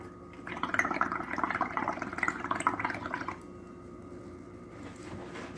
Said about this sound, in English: Now if you want a darker look, blow your bubbles and swipe